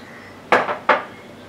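A spoonful of cumin powder goes into masala buttermilk, giving two sharp, close clinks of the spoon against the vessel about a third of a second apart, then quiet.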